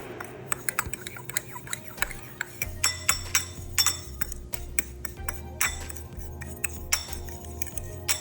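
Metal utensil clinking and scraping against a glass bowl while breadcrumbs and Parmesan cheese are stirred together, a steady run of bright taps and clinks, close and fairly quiet.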